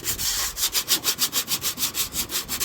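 Rust is sanded by hand off a refrigerator part, a close, rhythmic scratchy rasp repeating in quick, even back-and-forth strokes, with no talking.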